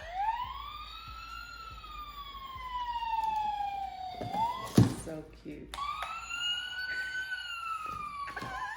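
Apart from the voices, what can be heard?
toy police car siren sound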